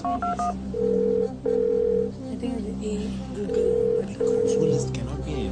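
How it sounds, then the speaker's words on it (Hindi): A series of telephone keypad tones beeps out in short bursts on the Kaun Banega Crorepati quiz show, with a voice talking underneath and a steady background hum. "उनको फोन लगाइए प्लीज"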